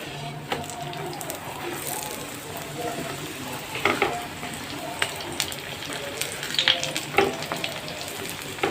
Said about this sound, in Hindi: अब हम इसके ऊपर घी लगाते हैं और घी लगाने के बाद इसको फिर पलट देंगे और अच्छी तरह से इसको फेर कर पकाएंगे